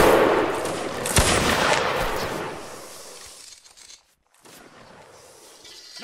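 A musket volley fires on command during a Napoleonic-style linebattle in a multiplayer video game, opening with a loud, sharp crack that rolls into a dense, sustained crackle of many shots, then fades to near silence before faint battlefield noise returns.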